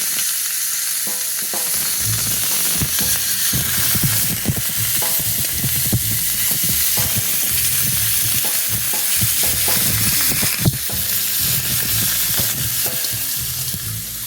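Ribeye steaks sizzle on a grill with a steady loud frying hiss, punctuated by frequent crackles, pops and occasional scraping clicks, close up and uninterrupted by speech.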